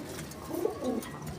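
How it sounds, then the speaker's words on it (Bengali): Pigeons cooing at a pigeon farm, with a short, soft, close coo standing out from a quiet murmur of other birds. "বহু ধরনের কবুতর আছে।"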